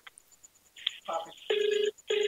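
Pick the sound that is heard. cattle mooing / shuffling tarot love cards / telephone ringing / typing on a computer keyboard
telephone ringing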